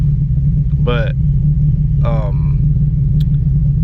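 A tuned car engine idles loudly and steadily nearby, a low rumbling drone with a slight lope, while someone speaks briefly over it.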